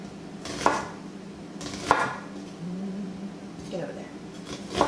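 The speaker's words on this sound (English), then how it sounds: "on the onion I just cut off the ends, split it in half, And then we're just going to go through and make some thin slices" A knife slices an onion into thin slices on a cutting board, with a few distinct chops spaced apart amid quiet kitchen noise and someone talking.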